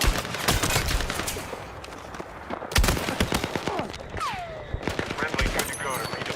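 Rapid gunfire from a revolver and a shotgun in the Battlefield 6 video game, dense bursts of loud, close shots cracking over constant battle noise, with a whistling projectile sweep partway through.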